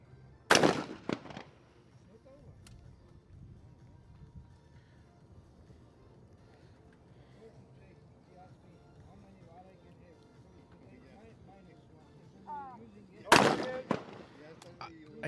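Shotgun blasts at a women's trap team final at an ISSF World Cup in Lima, Peru: two loud, sharp reports with echoing tails, one near the start and one near the end, with quiet background between.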